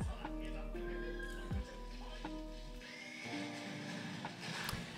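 A horse neighs in the Vinland Saga anime, a loud rising whinny under a voice speaking over the scene, with mechanical clicks and a low hum behind it.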